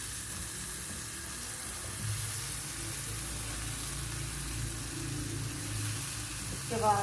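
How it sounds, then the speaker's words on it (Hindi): Potatoes with salt, chili and spices are stirred with a spoon in a frying pan for khatte aloo, a soft continuous sizzle with faint scraping, fairly quiet and steady. "थोड़ी देर चम्मच हिलाया।"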